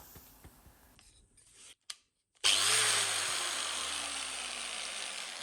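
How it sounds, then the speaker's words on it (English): An angle grinder spins up with a small threaded part on its shaft, pressed against rough sandpaper to round and smooth it. A few short taps come first, then a brief gap, then a loud, steady whirring grind that slowly winds down in pitch. "Just touch it to the rough sandpaper and it becomes round and smooth in seconds"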